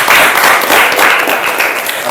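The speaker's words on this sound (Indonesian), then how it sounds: "Oke, tepuk tangan untuk mereka berdua." A classroom of students applauds two classmates, a loud, close burst of clapping that stays full and continuous for a couple of seconds.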